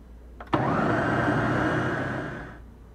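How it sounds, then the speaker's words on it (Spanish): Kitchen blender whirring steadily as it blends a riguas (tascales) mixture of Guatemalan style, starting abruptly after a couple of faint clicks and running loud and continuous for about two seconds before tapering off. "Ahora vamos a poner a licuar esto."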